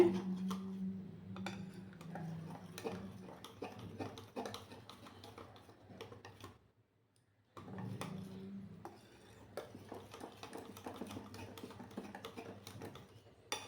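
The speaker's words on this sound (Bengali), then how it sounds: "কিছুক্ষণ সময় নিয়ে আমি এটাকে একটু ফেটিয়ে নেব" A whisk clatters and scrapes rhythmically against a bowl while semolina and mango cake batter is beaten, steady close clicking strokes that pause briefly midway before resuming.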